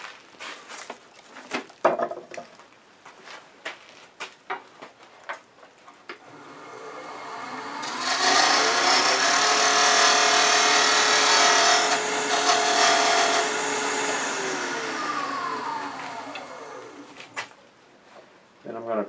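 Wood lathe cutting a tenon on a twig pot blank, starting with scattered knocks and scraping, then a loud sustained tool-on-wood whine that swells steadily and tapers off as the cut ends.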